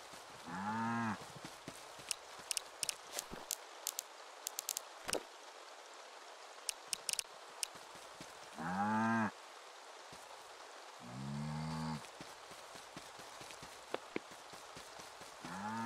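Cows moo in the farming video game Staxel, three or four drawn-out calls spaced apart over a soft rain-like hiss, with faint clicks and taps scattered between them.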